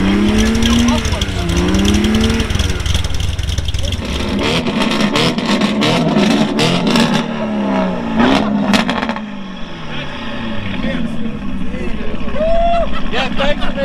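A loud, rough car engine with no mufflers rumbles and revs repeatedly at a cars-and-coffee meet, its pitch rising and falling, with people talking over it throughout.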